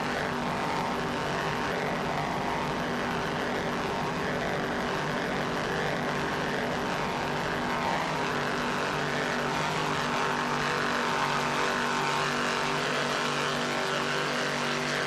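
Two 600-horsepower Blue Thunder engines roar in a steady, unbroken drone from a 30-foot Formula offshore racing powerboat on calm water at the 1995 Jacksonville Offshore Grand Prix, with no voices.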